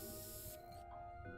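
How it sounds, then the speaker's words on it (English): Luminol spray hissing against a wall in a video game, a steady close spray that cuts off partway, then quiet game ambience. "You spray that section of the wall."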